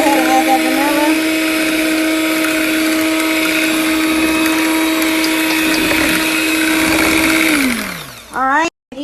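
An electric mixer runs steadily while boiling water is whipped into chocolate cake batter, a loud continuous whine that drops in pitch and cuts off near the end.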